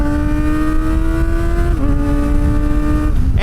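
Kawasaki ZX-4RR 400cc race-style motorcycle engine screaming at high RPM, a loud continuous high-pitched wail that briefly dips with a gear change and climbs again, close and steady throughout.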